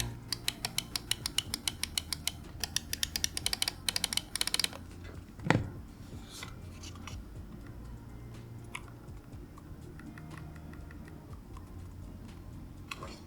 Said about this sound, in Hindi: तो एक बार आपको साउंड टेस्ट सुनाता हूं।